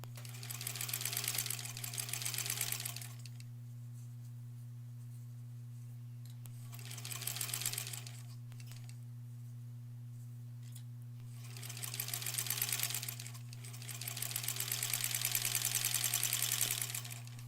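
A sewing machine stitches granny square quilt blocks in bursts of rapid, even mechanical whirring, three or four runs separated by pauses, over a constant low electrical hum.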